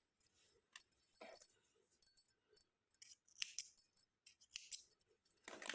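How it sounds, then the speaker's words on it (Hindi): Scissors snip through knitting yarn on a baby cardigan in a few quick, quiet cuts, with light metallic clicks and rustling between the snips. "फिर इस धागे को हम कट कर देंगे"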